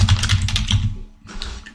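Rapid, close computer keyboard typing as a prompt is entered, a steady patter of keystrokes that pauses briefly near the end and then resumes more lightly.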